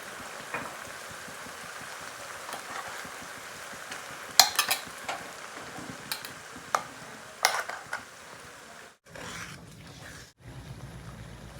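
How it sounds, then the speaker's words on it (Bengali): Spice paste gravy goes into spices frying in a pan for a chicken curry, with a low sizzle, scattered spoon clacks and scraping bursts as it is stirred, then a brief pause before the stirring resumes. "এখন আমি পেস্ট করে রাখা গ্রেভিটাও দিয়ে দেব।"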